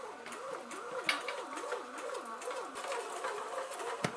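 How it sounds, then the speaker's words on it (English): A Kenwood BM260 bread maker kneads dough with a soft, wavering motor whine that rises and falls in an even cycle, accompanied by faint thumps and patters. "This is when the machine is beating all the materials together, all the ingredients."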